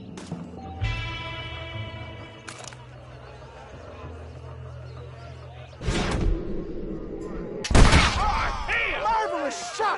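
Gunfire in the Western video game Red Dead Redemption: scattered loud shots, with one sharp burst near the middle and a heavier burst later, mixed with game voices talking and background game sound.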